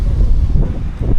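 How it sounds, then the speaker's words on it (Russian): Icy wind high in the mountains buffets the microphone with a loud, continuous low rumble and gusty surges, and no voices are heard. "здесь реально ледяной ветер"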